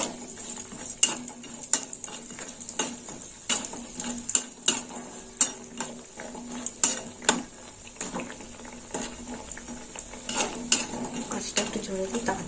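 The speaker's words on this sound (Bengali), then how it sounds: "এবার বড়িগুলো ভেজে নেব।" Ten bori lentil dumplings fry in a pan for a vegetarian banana flower curry, with repeated sharp clinks and scrapes of a spatula against metal over a soft sizzle.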